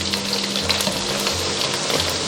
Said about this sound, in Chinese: 全程就是保持中火炸，